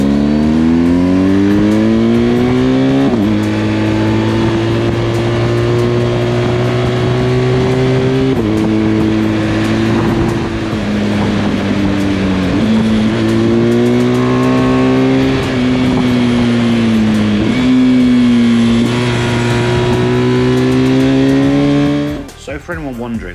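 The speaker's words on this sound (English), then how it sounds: "my SC Project exhaust. It sounds absolutely incredible." A motorbike fitted with an SC Project exhaust rides along a route, its loud engine note droning steadily and rising in pitch through several gear changes before dropping away at the end.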